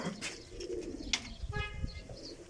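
Pigeons coo on a rooftop pigeon loft in Sialkot, soft low murmurs mixed with a few brief chirps and rustles at moderate distance, with no talking.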